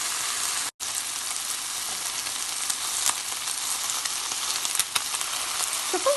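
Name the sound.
chicken skin searing in a wok over low heat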